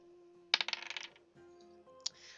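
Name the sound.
dice rolling and clinking during a D&D game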